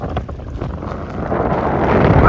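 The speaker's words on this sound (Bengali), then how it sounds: "দেখেন কি পরিমাণ বাতাস, হালকা হালকা ঢেউ উঠতেছে" Strong wind buffets the microphone over open haor wetland water near Moydhanagar, a steady broadband roar that swells louder toward the end, with no voices.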